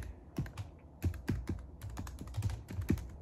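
Typing on a computer keyboard to name a new folder on a Kali Linux desktop: soft, close, irregular keystrokes in quick clusters, with no voice.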